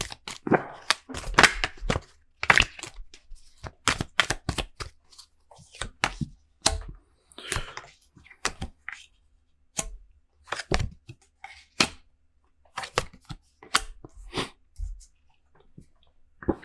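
Tarot cards being shuffled by hand, a run of quick crisp riffling snaps and soft card slaps in irregular bursts, close and fairly quiet, with no talking.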